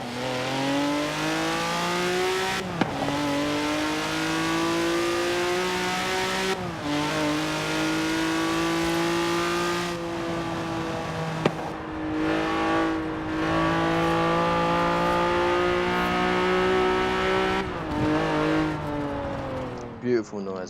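Engine of a 2005 Honda NSX-R in the racing game Forza Horizon 4, revving up and down repeatedly through gear changes with a rising, whining tone, loud and close for about twenty seconds.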